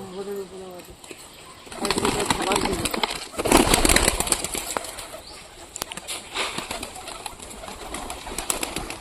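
Pigeons coo and flap their wings at close range, soft calls at the start followed by bursts of wing flutter and handling noise, with people talking in between.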